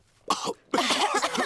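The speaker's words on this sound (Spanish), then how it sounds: "Los adultos se contagiaron de la tos que tiene Pedro." A cartoon character coughs, one short harsh cough followed by a longer rough burst of coughing, close and loud with no talking over it.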